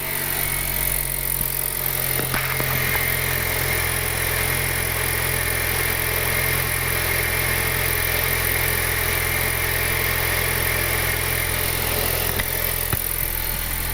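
A turbocharged Honda Civic R18 engine runs at a steady idle, loud and continuous throughout, with an even mechanical hum and no voices.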